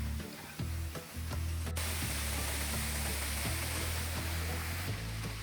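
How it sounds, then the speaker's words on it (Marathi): The Nangartas waterfall near Amboli roars in the monsoon, a dense, steady broadband rush of falling water heard up close, constant and unbroken, with no voices over it. "हा आहे आपला नांगरतास धबधबा"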